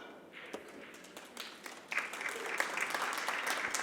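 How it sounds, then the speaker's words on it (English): Audience applause breaks out after a shot in a 10-ball pool match at the Derby City Classic, starting as scattered claps and swelling into steady, fuller clapping from a nearby crowd. "You're clapping for the shot"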